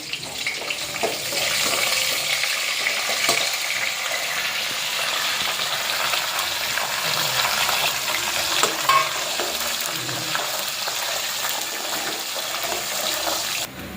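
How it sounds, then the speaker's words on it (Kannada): Steady, loud sizzling of cumin, mustard seeds, curry leaves and dried red chillies frying in hot oil, with crackles and occasional stirring clinks running throughout. "ಸ್ವಲ್ಪ ಜೀರಿಗೆ, ಸಾಸಿವೆ, ಕರಿಬೇವು, ಒಣಮೆಣಸಿನ್ಕಾಯಿ ಎಲ್ಲ ಹಾಕ್ಕೊಂಡು ಫ್ರೈ ಮಾಡ್ಕೊಳ್ಳೋಣ"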